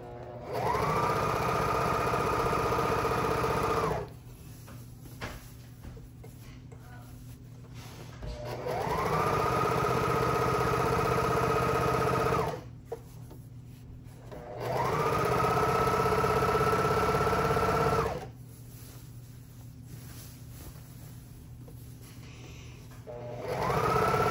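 A sewing machine stitches along frayed edges of a silk worship flag in three long, steady runs, each of several seconds, separated by quieter pauses.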